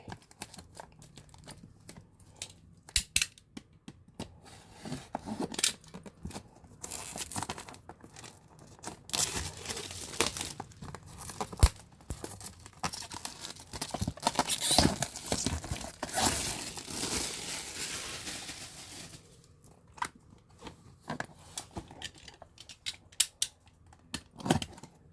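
Packaging for a 9-pocket card binder being opened in an unboxing, with repeated crinkling, tearing and rustling of wrap and plastic, fairly close and steady with brief gaps and no talk.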